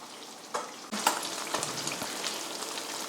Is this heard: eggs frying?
yes